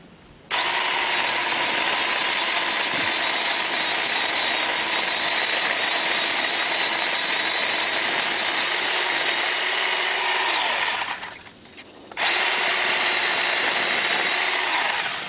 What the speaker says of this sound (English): cut this off now with the chainsaw in comparison with the reciprocating saw